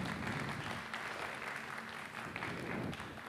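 An audience applauds visiting artists at a pottery demonstration, continuous dense clapping held at a steady level, moderately distant.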